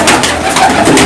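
Loud, close pigeon cooing fills the whole moment, a continuous throaty rolling coo over dense background noise at a pigeon-keeping gathering.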